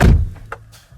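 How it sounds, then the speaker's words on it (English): A single heavy door of a 2015 Nissan Rogue thuds shut up close, followed by a few faint clicks and rattles as it settles. "Close the door first."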